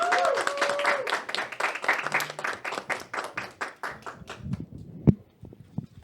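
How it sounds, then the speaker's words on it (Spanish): An audience gives a warm round of applause as a guest is bid farewell, dense clapping that gradually thins into a few scattered claps, with faint voices underneath. "te despedimos con un fuerte aplauso"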